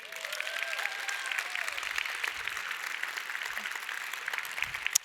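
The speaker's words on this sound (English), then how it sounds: "Yes, I love your applause." Steady applause from a large audience at the opening ceremony of an anti-bullying forum, dense and continuous for about five seconds, with a faint voice briefly audible over the clapping.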